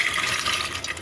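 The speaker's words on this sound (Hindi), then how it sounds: "यहाँ पे ये मेरा आधा कप पानी निकल आया" Water poured off soaked sprouted grains, a steady rushing, splashing flow that runs loud and unbroken for about a second.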